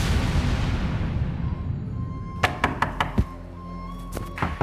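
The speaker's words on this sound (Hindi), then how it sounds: "क्यों दरवाजा पीट रहे हो?" Someone bangs on a door in a crime drama scene. A steady rushing background gives way to a series of loud, sharp thuds, four fairly evenly spaced, then a pause and another quick cluster of blows.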